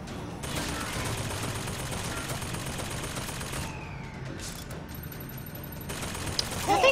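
Gunfire in the Bioshock Infinite video game: a sustained burst of rapid shots and mechanical clatter runs steadily through the clip at an even loudness, with no talk over it.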